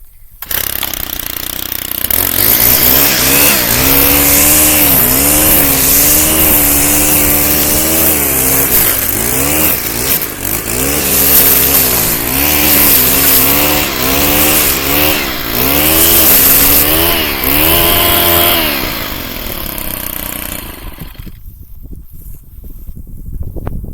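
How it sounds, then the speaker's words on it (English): A chainsaw runs loud and close for about twenty seconds while clearing a fence line, its engine revving up and down repeatedly before cutting off abruptly. "you need to use the chainsaw"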